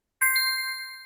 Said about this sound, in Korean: 띵동 텍스트 메시지.